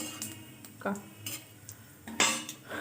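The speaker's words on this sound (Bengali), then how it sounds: "এবার পেঁয়াজটা দিয়ে পেঁয়াজটা ভেজে নেবো" Onions fry in a pan, with a faint sizzle under close, irregular clinks and scrapes of a metal spatula against the pan as they are stirred.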